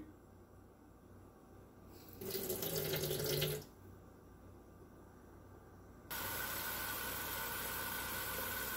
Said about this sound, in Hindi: पास्ता हमारा कुक हो गया, इसको पानी को ड्रेन करते हैं। गर्म पानी निकाल कर हम इसमें ठंडा पानी शामिल कर रहे हैं।